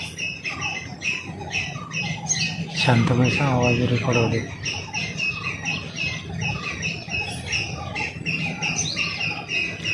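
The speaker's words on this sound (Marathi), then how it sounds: "असं पक्ष्यांचा याचा आवाज ऐकत ऐकत किड्यांचा छान वाटतं बसायला" Birds and insects chirp and call repeatedly in the background during a morning walk, steady throughout, while a person talks over them from a bench.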